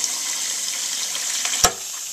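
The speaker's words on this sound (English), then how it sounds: "We're gonna load this thing up with some water." Water is poured into a lemonade shaker already holding ice, a steady hissing splash with a single sharp clink partway through, close up and without speech.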